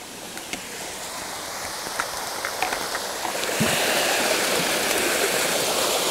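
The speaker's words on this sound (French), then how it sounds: "on fait la vaisselle dans la rivière" Mountain river water rushing steadily over rocks, a continuous broad hiss that swells louder toward the end, close by with no voices.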